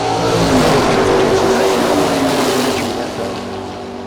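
Malibu and Camaro drag racing cars launch side by side, a loud dense engine roar close by that holds steady and then slowly fades as the cars pull away, no voices.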